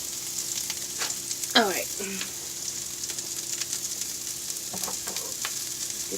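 Food sautéing in a pan in an RV kitchen while a pizza sub is made, a steady close sizzle and fry under a few brief spoken words and some light stirring clatter.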